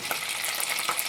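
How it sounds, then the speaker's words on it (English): Frozen butter splatters and sizzles loudly in hot melted shortening for white milk sausage gravy, a close, dense crackle with sharp pops throughout, no voices. "It's splattering on me. And this butter was frozen."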